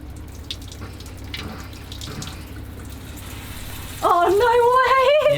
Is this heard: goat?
no